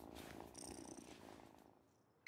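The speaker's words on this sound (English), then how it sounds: "Listen to this purr. Listen to that purr." A soft, steady cat purr in the video game Wylde Flowers continues for a couple of seconds, fairly quiet and close, with no talking, ending with a brief click.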